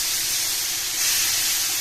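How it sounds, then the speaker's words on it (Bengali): Prawns dropped into hot oil seasoned with turmeric in a pan, giving a brief, loud, continuous hiss of frying up close. "এবার আমি চিংড়িগুলো দিয়ে দেবো, ভাজার জন্য চিংড়িগুলো দিয়ে দেবো।"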